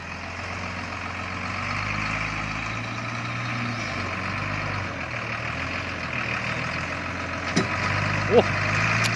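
A HINO F18 ten-wheel truck loaded with sugarcane rumbles with a deep, steady diesel engine drone close by, its low throb shifting slightly, with a couple of short clanks near the end.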